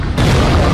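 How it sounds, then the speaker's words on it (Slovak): A loud explosion sound effect, heavy with deep rumbling bass, starts abruptly and sustains at full volume, booming and close. "daj tam tie poriadne výbuchy"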